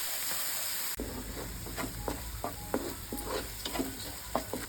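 Onion-chili paste frying in a pan for a village-style brinjal curry: a steady close sizzle broken by a string of distinct spatula scrapes and taps.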